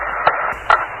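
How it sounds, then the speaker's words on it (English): Two hollow knocks from an astronaut hammering a core tube into the lunar surface during Apollo 12, heard through a steady radio hiss, spaced about half a second apart. "this is the sound of such hammering"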